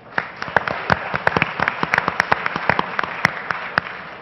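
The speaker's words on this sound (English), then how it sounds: "a round of applause then for Tello" At a Startup Battlefield pitch event, the audience gives a round of applause after a startup's pitch. Moderate clapping of scattered, distinct hand claps over a steady room hum, with no letup across the few seconds.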